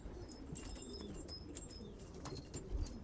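Keşfir pigeons in a flock coo softly at close range, with scattered chirps and brief wing flutters, all faint and without any talk.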